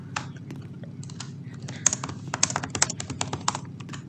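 Rapid computer keyboard typing, a dense run of uneven clicky keystrokes with a few louder taps, close and steady throughout with no talking.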